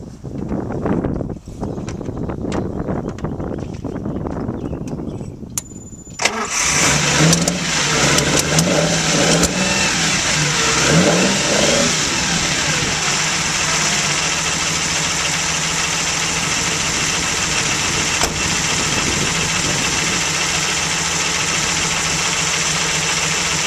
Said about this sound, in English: We'll crank up the engine here for a minute.